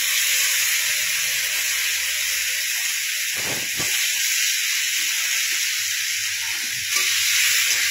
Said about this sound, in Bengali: আলুগুলো দিয়ে খুব সুন্দর করে কিছুক্ষণ কষে নেব।